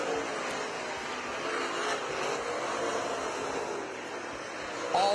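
Race cars circle a speedway oval during a last chance race, their engines producing a steady, broad roar at a distance that holds throughout with no clear passes.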